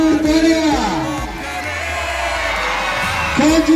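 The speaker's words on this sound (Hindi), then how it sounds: "भरपूर तालियां" At an arm wrestling match during a sports week, a lively crowd cheers and shouts with loud, excited voices, swelling at the start and end.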